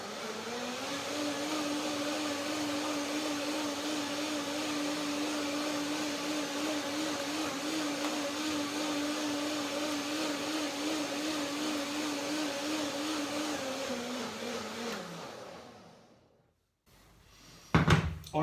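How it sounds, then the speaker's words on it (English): A kitchen blender whirs through granola with almond banana cream and added water, a steady loud motor drone holding for about fifteen seconds before winding down, followed by a few clunks. "add a little bit more water, a small amount, and one more quick blending."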